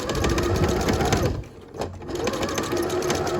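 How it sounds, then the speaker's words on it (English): A sewing machine stitches a T-shirt neckline seam, a close, continuous mechanical whir with a brief dip in the middle before it runs on steadily. "it's going to stitch a nice beautiful line here next to that edge there, which will hold it down beautifully"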